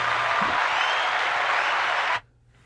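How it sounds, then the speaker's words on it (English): Round of applause on a comedy podcast, dense continuous clapping that holds steady for about two seconds and then cuts off abruptly into near silence. "You get the round of applause over there."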